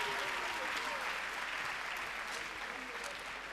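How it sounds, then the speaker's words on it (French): An audience at a Friday evening show applauds, a dense, steady wash of clapping that fills the room at moderate volume and fades slightly toward the end. "Tozolo, est-ce qu'on peut l'applaudir bien fort?"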